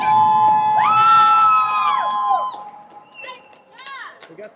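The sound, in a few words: crowd cheering at basketball game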